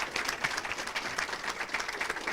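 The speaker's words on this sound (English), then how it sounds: "please join me in giving Kim a round of applause" An audience applauding at a council meeting, dense steady clapping from many hands filling the room at moderate volume throughout.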